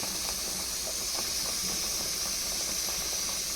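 Ginger sizzling in hot oil in a pan while cooking jeera rice at home, a steady bright hiss with faint crackles and pops, continuous and close.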